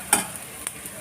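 Curry leaves dropped into hot oil for a Tamil mor kuzhambu, giving a short sharp sizzle burst followed by softer crackling and a faint later pop, close and alone.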